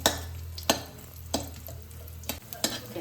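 Crushed cashews and almonds frying in ghee in a pan, a soft continuous sizzle broken by several sharp scraping stirs at a slow, irregular rhythm, up close with no talking.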